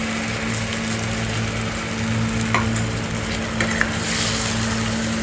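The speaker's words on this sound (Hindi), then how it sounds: "बाकी भुन चुका है प्याज, अब डालती हूँ दाल।" Lentils dropped onto onions already fried in a pan, giving a steady close sizzle with occasional stirring scrapes and light clicks, no talking.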